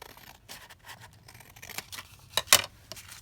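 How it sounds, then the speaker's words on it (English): Scissors cut through folded, coffee-dyed paper sheets. Soft crisp snips are close and intermittent, ending with a louder, sharper cut. "So if I just fold my coffee dyed sheets down, cut them roughly in the middle"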